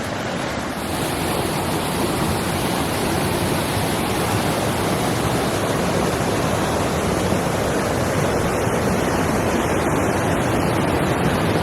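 Rushing waterfall water shooting out, a loud, steady, dense roar that fills the whole stretch evenly and close, with no talk over it.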